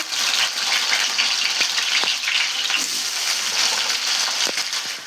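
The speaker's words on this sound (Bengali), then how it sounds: "তেল গরম হয়ে গেছে আলুগুলো ভাজ দিয়ে দেবো" Potatoes fry in hot oil in a village kitchen while pointed gourd dolma is made, giving a steady, close crackling sizzle throughout with occasional sharper pops and stirring sounds.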